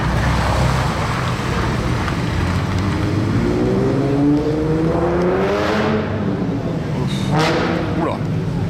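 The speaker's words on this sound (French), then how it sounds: "j'ai entendu démarrer la GT2 RS" A Porsche GT2 RS fires up on a Paris street, its engine rising in a sweeping rev that climbs and falls amid steady traffic and crowd noise, with voices nearby.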